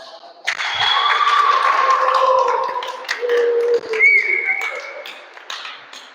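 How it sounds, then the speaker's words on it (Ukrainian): Audience in a hall applauding and whistling for a birthday girl, sharp taps of clapping mixed with long shrill whistles and cheering voices, loud and close, tapering off near the end. "Оце овації, да?"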